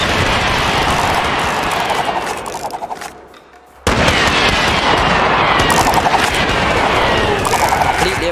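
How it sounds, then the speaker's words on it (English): Dense, continuous automatic gunfire from a battle in the game Totally Accurate Battle Simulator, Wild West setting, loud and rapid with rattling bursts, briefly thinning out midway before a renewed full barrage. "Reload and fire another barrage."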